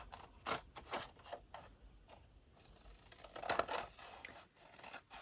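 Scissors snip through a sheet of paper just above a fold during card-making, a series of quiet, close crisp cuts and scrapes in an irregular rhythm with no talking.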